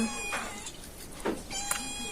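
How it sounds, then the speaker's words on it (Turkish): Cats beg for food in a home kitchen during cheesemaking, letting out three short, close meows in quick succession against quiet background noise. "Pisiler yemek istiyor."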